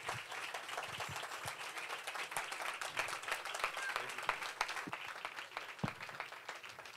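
A church congregation applauds during a Sunday service, a steady wash of many hands clapping, fairly distant and low in level, with scattered louder claps and faint voices underneath.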